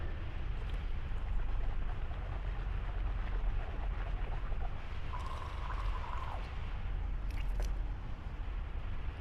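Water runs and splashes as it is scooped into a cupped hand for rinsing the mouth during a ritual ghusl bath, a continuous wet pouring with brief drips, close and fairly loud.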